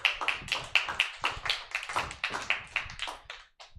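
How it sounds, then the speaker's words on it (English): A small audience at a comedy club claps for the host, with sparse, close hand claps in an uneven rhythm, individual claps distinct rather than a dense roar, tapering off near the end. "let's get a round of applause for your wonderful host"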